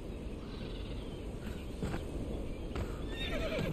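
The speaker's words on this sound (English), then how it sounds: "I can hear the horse behind me." A horse in the video game Conan Exiles neighs and whinnies behind the player while its hooves clip-clop steadily, fairly close and loud over outdoor ambience with faint birds.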